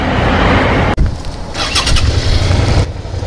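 Motorcycles pull away to park, engines revving loudly and close after a brief cut, with a rising growl and throttle bursts in the middle before easing off.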